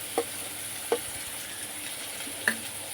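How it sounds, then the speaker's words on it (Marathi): Garlic paste frying with onion in a pan for dal baati, a faint low sizzle marked by three brief taps of a spoon against the pan. "यामध्ये आता हे लसणाची पेस्ट टाकून घेणार आहे"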